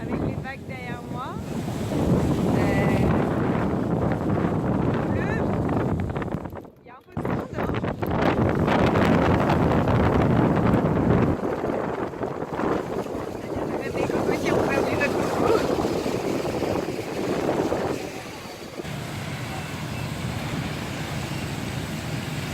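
Strong wind buffets the microphone on a beach in Nha Trang, Vietnam, just after Typhoon Damrey, with waves breaking and surf rushing steadily behind, a loud and continuous roar with a brief dropout midway.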